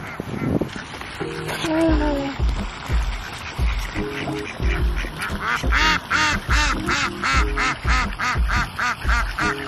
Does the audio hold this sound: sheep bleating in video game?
no